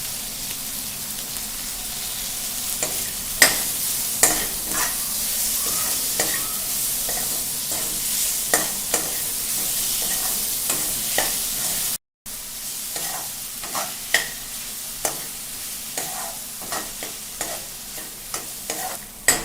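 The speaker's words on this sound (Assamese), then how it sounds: "তাৰ কাৰণে গেছটো ল' ফ্লেমত ৰাখি এনেকৈ ভাজি আছোঁ।" Onions and tomatoes with salt and spices fry over a low gas flame while being stirred, a steady close sizzle broken by repeated scraping stir strokes, no talk.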